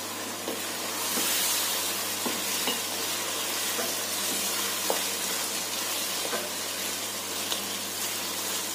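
Alexandrian-style liver frying in a pan with lemon and vinegar, a continuous hissing sizzle under repeated scraping stirs and light utensil taps, with no voices.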